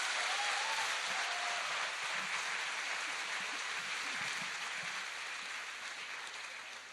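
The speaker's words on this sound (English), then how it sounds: "all those applauding in the audience" An audience applauding at an interactive session, a continuous wash of clapping that holds steady and then slowly tapers off toward the end, heard from a moderate distance.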